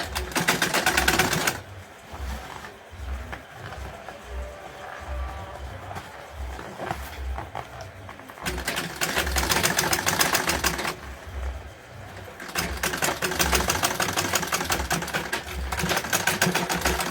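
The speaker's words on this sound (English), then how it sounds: "Then you sew it." A sewing machine stitches a fabric tote bag in bursts, running steadily for a few seconds, pausing to quieter handling noise, then running again in two more long passes, close and fairly loud.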